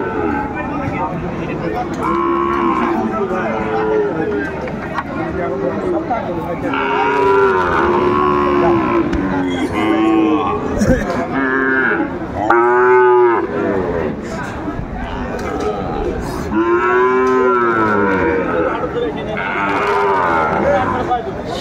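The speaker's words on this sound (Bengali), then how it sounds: "শাহিওয়ালের ষাঁড় বাচ্চা আমরা দেখছিলাম" A Sahiwal bull calf at a cattle market gives repeated loud, drawn-out moos close by, several calls spread across the clip over a busy background of crowd noise and voices.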